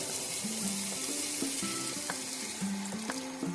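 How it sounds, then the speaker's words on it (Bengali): A little water poured into a hot pan of shrimp cooked down with spice paste, hissing and sizzling steadily with a few clinks of a utensil against the pan, no voices. "এবার এর মধ্যে আমি দিয়ে দেবো আবার সামান্য জল"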